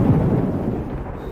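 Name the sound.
thunder during a storm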